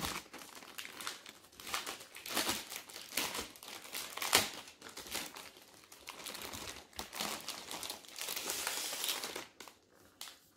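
Continuous irregular crinkling and rustling of a plastic bag being handled close by, with sharp crackles scattered throughout and no talking.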